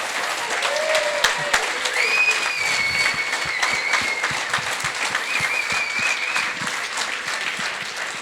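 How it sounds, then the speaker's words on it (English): A dinner crowd at a St. Croix County Republican Party event claps continuously, a dense patter of many hands holding steady at moderate volume, with a faint tone and a brief voice sounding through it. "let's give Orlando a round of applause for coming all the way up here"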